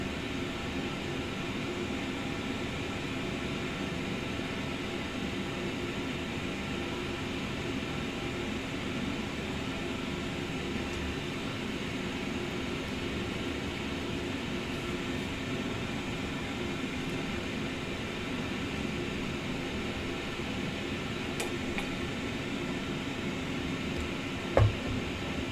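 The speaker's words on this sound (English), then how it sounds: "Taxiing A320 Neo." Airbus A320neo engines taxiing in Microsoft Flight Simulator 2024: a steady, even jet engine drone and whine that holds at a constant level without change, with no voices over it.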